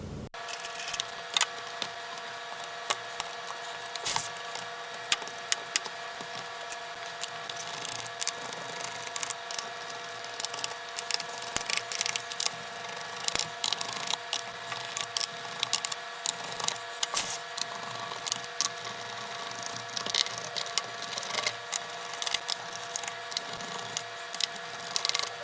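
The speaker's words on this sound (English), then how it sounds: "we're going to remove all of the screws that are in the bottom case here" A screwdriver removes Phillips screws from the bottom case of an Asus G752V laptop, with faint, irregular small clicks and scrapes close up in a quiet room and no talk.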